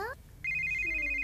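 A telephone rings indoors in a home, a short, steady electronic trill that cuts in after a brief moment of quiet and holds clearly to the end.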